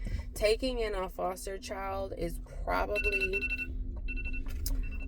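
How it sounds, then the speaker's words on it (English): A phone alarm chimes in a home, a repeating bright electronic tone pattern starting partway through and continuing under someone speaking. "Sorry, that was my alarm."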